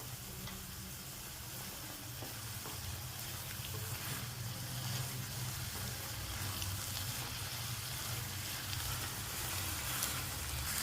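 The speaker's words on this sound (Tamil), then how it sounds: "இந்த மசாலா வாடை போகிற வரைக்கும் நம்ம இதை சிம்மில் வச்சுருக்கணும்" Masala gravy of soya chunks bubbling steadily in a pan on low heat, a continuous soft sizzle and gentle simmer throughout with no talking.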